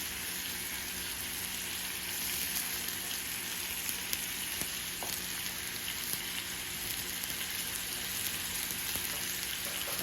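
Onions and garlic frying with pork chops in a pan give a steady, even hiss that stays constant and moderately quiet, with faint occasional pops and no voices.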